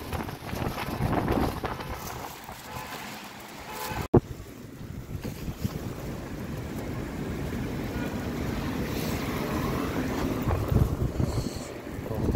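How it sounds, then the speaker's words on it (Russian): Strong gusting wind sweeps through a new park by the railway station in Baku, a continuous roaring rush with buffeting wind noise on the microphone and one sharp thump partway through. "вот такой ветер сегодня сильно поднялся"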